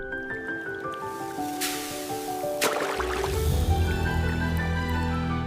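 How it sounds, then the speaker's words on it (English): Granular salt poured into a freshwater spring, an animated sound effect: a sustained pour of water-like trickling and squishy drips with bright splashes midway, then a fuller liquid fill underneath a tonal musical bed. "Pouring salt into a freshwater spring would mathematically ruin it even more."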